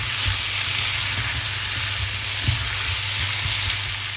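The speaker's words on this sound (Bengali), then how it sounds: "মিষ্টি কুমড়োটা কিন্তু ভাজা ভাজা হয়ে আসছে।" Pumpkin pieces frying in a pan give a loud, even, continuous sizzle with a few soft taps and stirs, close and alone with no talk.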